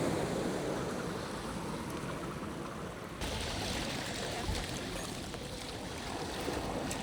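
A BYD electric car drives through a shallow water pool, giving a steady broad rush of splashing and churning water that holds at an even, close level, with a brief shift partway through and no talk.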